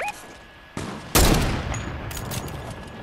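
Gunfire in the video game Fortnite: a sharp report followed by a loud, dense burst of shots that trails off into a lingering rumble, prominent and close with no talk.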